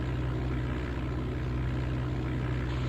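A propeller airplane in Flight Simulator 95 rolls down the runway for takeoff, its engine a steady, continuous drone with a low throbbing hum that holds at an even level throughout, with no voices.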